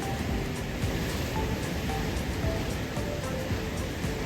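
Ocean waves break continuously at Tunnel Beach, Dunedin, New Zealand, a steady loud wash of surf with no voices.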